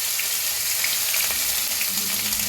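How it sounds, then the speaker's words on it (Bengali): Crushed ginger sputters in hot oil with a bay leaf, a dense, even hiss of frying that stays close and loud, with faint crackles, no voices. "আদাটা একটু ভেজে নেব"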